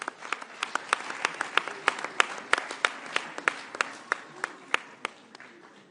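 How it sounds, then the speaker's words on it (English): Applause for German development partners at an official South Africa–EU meeting, heard as a steady run of crisp, distinct claps at a brisk even pace that thin out toward the end. "Let's give them a round of applause."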